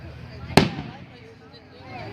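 A single sharp firework blast cracks outdoors at night during a fireworks show, close and loud, with a brief decaying tail, set against low background noise and faint voices.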